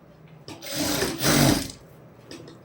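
A sewing machine runs in two short bursts, putting a double stitch onto a neck patti, with a whirring buzz rising and then stopping and quiet pauses around the bursts.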